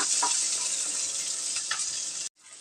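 Small onions and green chilies sauté in a pan for a bottle gourd stir-fry, giving a constant bright close sizzle that cuts off abruptly near the end.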